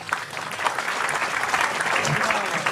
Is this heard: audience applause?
yes